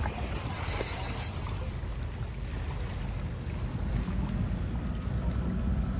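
A tour boat on an Amelia Island, Florida river cruise moves across water with a steady, broadband rush of engine and wind noise, continuous and loud throughout.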